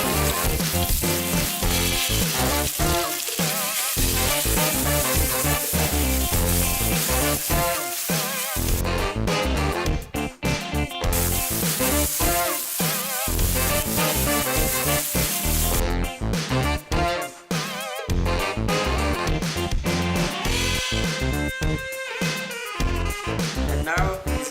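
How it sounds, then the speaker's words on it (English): Beef stir-fries over high heat for Vietnamese bún bò Nam Bộ, a loud, dense sizzle that crackles and surges continuously with brief dips as the pan is worked, close up and with no talking. "we will stir fry the beef."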